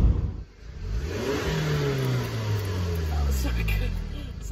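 A manual stick shift car's engine revs with too much gas as the clutch is held, a loud rising and falling mid-pitched roar from inside the car, with people talking over it.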